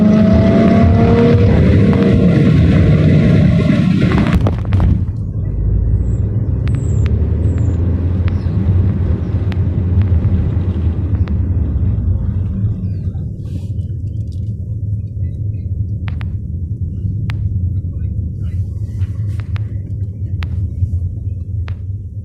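A Lotus sports car's engine heard while following it on the road: a steady, loud low rumble and drone throughout, with heavier broadband noise over the first few seconds and no talking.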